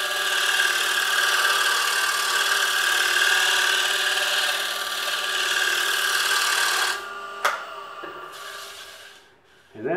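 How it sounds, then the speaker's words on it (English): Wood turning on a lathe is tear scraped with a Hunter Viceroy tool, making a steady rasping whir with a motor hum for several seconds before the cut stops, a sharp knock follows and the machine winds down. "I'm going to go back here and tear scrape and just clean up that area."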